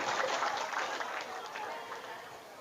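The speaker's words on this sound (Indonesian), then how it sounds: "Selanjutnya mau tepuk tangan dulu silakan. Tepuk tangan dulu." An audience at a Maulid shalawat gathering claps on cue, a steady wash of many hands close by that eases slightly over a few seconds.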